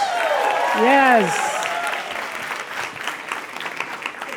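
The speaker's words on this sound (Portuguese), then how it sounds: "Palmas pro Abner, gente, palmas!" A comedy club audience in Brazil claps loudly for Abner, a voice shouting out at the start over the burst of clapping, which then continues at a steady, slightly fading level.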